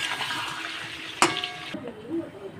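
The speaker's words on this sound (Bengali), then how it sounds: "নাড়িয়ে এবার নামিয়ে নেব।" Oily pointed gourd (potol) curry is stirred in a pan, a soft frying sizzle with a sharp clink of the spoon against the pan midway, then quieter.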